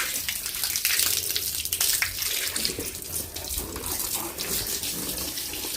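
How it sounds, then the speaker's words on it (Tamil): Water running from a hose pipe onto a scooter being washed outdoors, a continuous splashing rush that stays steady with small surges in strength. "ஃபஸ்ட்டு தண்ணி விட்டு நம்ம அந்த மண்ணெல்லாம் வந்து ஊற வச்சு அதை வெளியில் எடுப்போம்."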